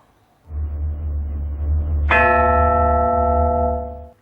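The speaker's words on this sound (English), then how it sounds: "So let's get straight now to the opening bell." A low rumbling swell builds, then a single bright bell strikes to open a televised debate and rings out with a sustained, shimmering tone that lingers before cutting off.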